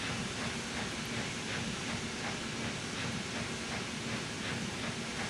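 Steam locomotive in Trainz Simulator, a steady broadband hiss and rumble with soft, regular chuffing pulses running throughout at a constant level.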